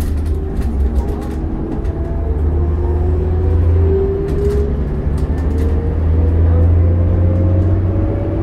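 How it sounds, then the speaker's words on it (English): A 2006 New Flyer D40LF transit bus roaring from inside the cabin while cruising on a city route, with a loud, steady low engine drone and road rumble throughout. "You can hear that Jimmy just roaring."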